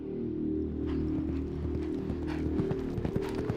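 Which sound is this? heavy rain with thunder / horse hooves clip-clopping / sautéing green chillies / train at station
horse hooves clip-clopping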